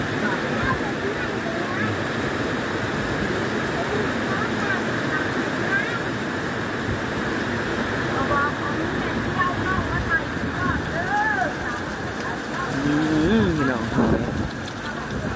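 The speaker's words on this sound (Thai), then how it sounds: "บรรยากาศฝนตก" Steady rain pours down without pause, a dense, even hiss that swells slightly near the end, with faint voices in the background.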